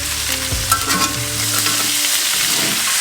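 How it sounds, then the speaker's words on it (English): Steaks sizzling loudly in a cast iron skillet with butter and crushed garlic, a close, dense frying hiss that holds steady, with a few thuds and scrapes near the start. "I also add some crushed garlic."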